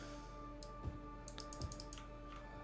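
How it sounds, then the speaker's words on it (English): Computer mouse clicks during a Cities: Skylines game session, a handful of sharp, close clicks scattered irregularly over a quiet, steady background hum. "Sorry if my mouse clicking sounds a little bit, you know, a little bit obnoxious"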